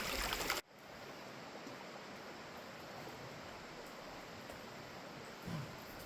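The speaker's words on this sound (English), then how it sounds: "Way down there is the creek." A creek flows far down at the bottom of a forested canyon, a faint, steady rushing wash heard from above with no talk, starting after a brief louder burst.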